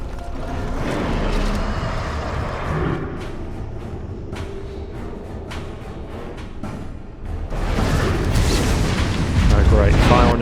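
A fire attack strikes a drake in Dragon Age, with heavy roaring bursts and rumbling booms that surge loud near the end, as a voice speaks over the combat.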